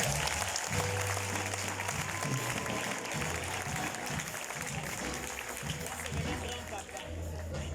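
A crowd claps and cheers loudly and continuously at a graduation ceremony, a dense roar of applause with voices mixed in throughout.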